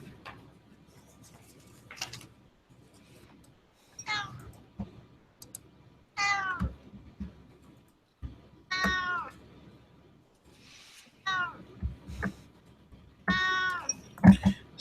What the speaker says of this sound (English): Sorry about this cat.